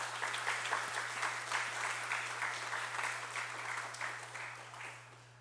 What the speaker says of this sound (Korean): 우리 부모님께 감사의 박수를 드리겠습니다